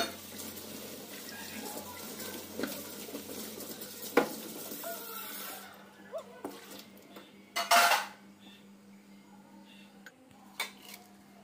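Dishes and utensils clatter during washing up in a home kitchen at morning, with scattered clinks and knocks under a steady tap-water hiss, then sparser sharp clanks and a louder splash-like burst later.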